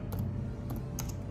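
A short run of keystrokes on a computer keyboard as a plant name is typed, several crisp close taps over a low steady background hum.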